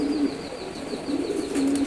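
A racer pigeon coos in low, rolling phrases, one near coo early and two more toward the end, over a soft steady background hum.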